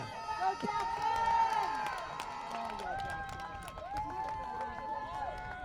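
Crowd at a Thanksgiving Day varsity high school football game between the Mohawks and the Medway Mustangs, a steady wash of cheering and shouting voices with sharper yells and whistle-like calls rising over it.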